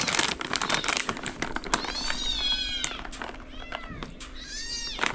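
A kitten meows several times, high drawn-out cries over a background of rustling and light clattering.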